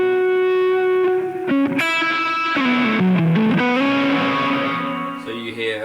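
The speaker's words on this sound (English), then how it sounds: "the reverb and delay tails kind of are demonstrably louder, but also they distort" Electric guitar through a Line 6 Helix, with reverb and delay placed before a distorting amp block; sustained loud notes bend and smear into messy, distorted echo tails that ring on continuously.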